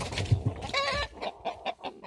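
Bantam and silkie hens cluck and squawk close by in short, busy bursts, a small flock of chickens fussing among themselves.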